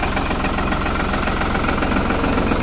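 Tractor engine idling steadily in a kinnow orchard during fungicide spraying, a loud, continuous throbbing drone with a fast regular pulse and no pauses.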